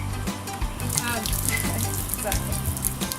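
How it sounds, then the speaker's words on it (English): Water splashes and trickles from tilted herb pots in a city homestead garden, a continuous close wet spatter with brief louder drops and faint voices in the background. "Water will probably drip everywhere."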